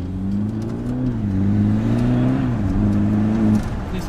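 A car engine with an open exhaust runs close by with a deep, steady rumble that rises and falls slightly in pitch. No one speaks.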